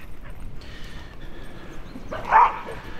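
A four-year-old dog that still acts like a puppy gives a short whimpering yelp outdoors over a steady background hiss, a single brief cry standing out near the end.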